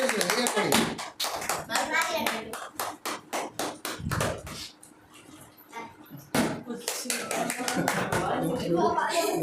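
Hands clap in a quick, loud run of claps near the listener, pausing briefly before resuming, with children's voices and talk mixed in.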